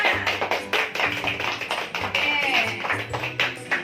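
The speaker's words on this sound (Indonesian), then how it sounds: "Tepuk tangan buat semuanya." Clapping from classroom quiz groups after their scores are read out, a quick patter of hands with faint voices in the background.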